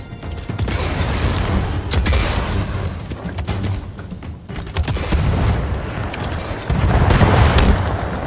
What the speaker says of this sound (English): Grenade thrown!